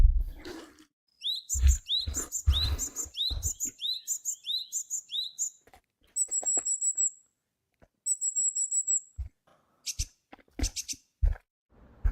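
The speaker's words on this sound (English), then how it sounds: "That first sound you heard is the sound the tit bird makes in order to attract a mate." A tit calls to attract a mate in a rapid series of bright, repeated chirping notes, followed by several further short tweeting phrases and a few scattered clicks, close and clear with no voices.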